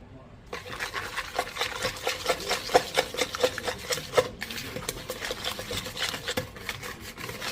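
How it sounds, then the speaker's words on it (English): Egg noodle dough is whisked by hand in a bowl, giving a quick, steady run of soft scraping and tapping strokes, close and moderately quiet, with a brief break partway through. "I'm just gonna like whisk it together and then bowl it with my hands."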